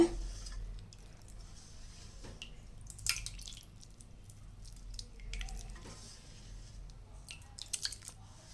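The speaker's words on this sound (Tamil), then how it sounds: "இப்போ நல்லா ஒரு ஃபில்டர் வச்சு அதில் நம்ம இதை நல்லா ஃபில்டர் பண்ணி எடுத்துடலாம்" Semolina milk for a sweet being strained through a filter, giving faint, close, irregular drips and small wet squishes over a quiet, low background hum.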